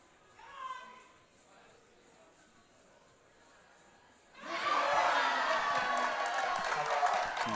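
A powerlifting crowd at a deadlift attempt bursts into loud, sustained cheering and shouting after a few seconds of quiet with faint voices, then holds steady at full volume.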